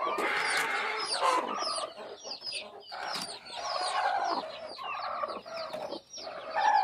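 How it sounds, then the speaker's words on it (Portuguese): A hen about to lay eggs clucks loudly and repeatedly, near and agitated, in quick bursts with short pauses, other fowl faintly in the background. "essa galinha é brava, viu, gente? Barulhenta, ela vai botar."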